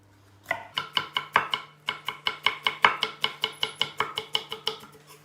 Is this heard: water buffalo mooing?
no